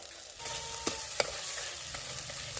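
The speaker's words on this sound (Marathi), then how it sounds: "आपण थोडं झाकण ठेवून मसाले परतून घेतो आहे" Spice masala with tomatoes sizzles and fries in oil in a pan for a cashew masala curry, a soft steady crackle broken by a few sharp stirring scrapes and clinks.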